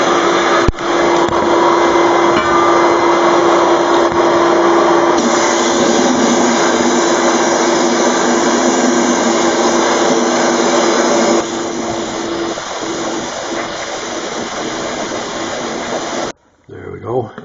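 A sandblaster blasting a wheel rim during restoration, a loud steady dense hiss of air and grit running continuously for about sixteen seconds, easing slightly partway, then cutting off abruptly.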